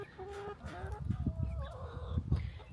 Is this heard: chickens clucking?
yes